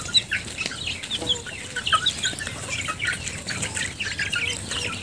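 Several domestic chickens cluck and call in a busy, continuous chorus, with bursts of higher squawks scattered throughout at moderate loudness.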